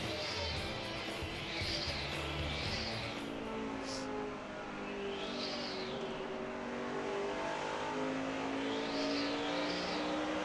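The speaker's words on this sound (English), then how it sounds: "Little car scooting around here pretty good, Larry." Stock cars lapping the Phoenix track during NASCAR Sprint Cup practice, engines droning steadily with several louder passes rising and falling as cars sweep by, no talk.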